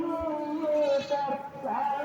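A single close goat bleat, drawn out and wavering for about two seconds, with no other sounds around it.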